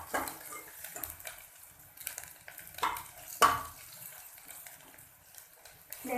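Garlic and ginger sauté in a pan with intermittent scraping stirs and a light sizzle, along with splashy watery bursts, sounding close and moderately quiet.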